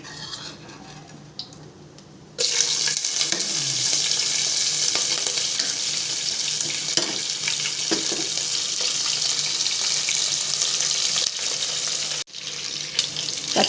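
Green chillies dropped into hot oil, a quiet start that bursts into loud, sustained sputtering and sizzling, briefly cut off near the end before resuming, with no speech.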